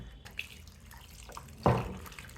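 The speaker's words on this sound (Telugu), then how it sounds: "దీంట్లో కొంచెం నీళ్ళు పొద్దాం" Water poured into fermented telaga pindi batter for Srikakulam-style vadiyalu, a soft gurgling splash rising suddenly near the end after faint quiet handling noises, close and fairly quiet.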